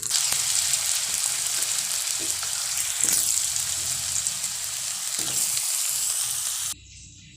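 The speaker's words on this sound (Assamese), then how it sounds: "কেৰাহীখনত তেল দি লৈছো অলপমান নিমখ দিম এতিয়া মই আলুখিনি ভাজি লম" Potatoes frying in salted oil in a wok as part of a cauliflower dish, a loud dense sizzle with a few stirring scrapes that runs steadily and then drops off sharply near the end.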